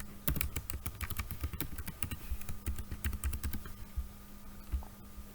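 Rapid bursts of keystrokes on a computer keyboard as a password is typed, crisp clicking taps in quick irregular runs, close and clear with no talk.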